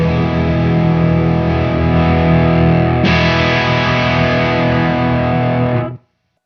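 Electric guitar played through a distortion pedal, one continuous sustained chord ringing for about six seconds, loud and alone, with a noticeable shift in brightness partway as the tone control is turned, then cut off abruptly.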